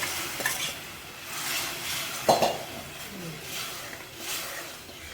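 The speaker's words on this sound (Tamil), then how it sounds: "இப்போ குழம்பு எடுத்து ஊற்றிடலாம் கையில் ஆவி அடிக்காமல் பார்த்துக்கலாம்" Chicken curry gravy is poured into a hot pan and stirred, giving a soft sizzle with scraping and a brief clink of utensil on the pan near the middle, close by and fairly quiet.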